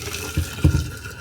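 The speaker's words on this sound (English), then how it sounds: "Fill it up with some boiling water." Boiling water pours into a glass jar holding a die-cast Jaguar XJ6 model, a short gurgling splash of liquid over a steady background hiss.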